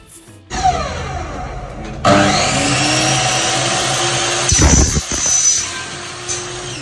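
A new machine in a shop starts up with a sudden loud whirring motor roar that keeps running steadily, with a brief clunk and shift in tone partway through, and faint voices in the background.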